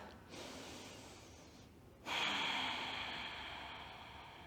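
Deep breathing during a yoga pose in a squat, a slow inhale followed by a longer, louder exhale through the nose, close and soft, no speech.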